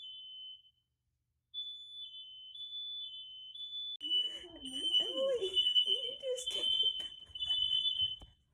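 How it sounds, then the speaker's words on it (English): A home smoke alarm set off by steam from a shower sounds as a steady high-pitched electronic tone, with a short gap near the start before it resumes. A person then talks over the continuing alarm. "I did somehow set the fire alarm off at Emily's house just from taking a shower"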